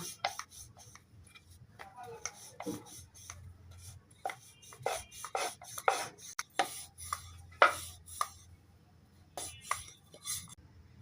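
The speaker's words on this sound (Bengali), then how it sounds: "এখন আমি এগুলোকে রুটির মতন করে বেলে নেব" A rolling pin works flour-dusted dough into a flat sheet for a stuffed breakfast snack. Close, irregular knocks and soft rubbing scrapes come in uneven bursts, with no talking.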